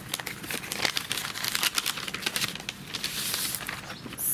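Packaging for wedding box stickers being torn and opened by hand, a close run of crisp crinkling, rustling and ripping that continues throughout with no talk.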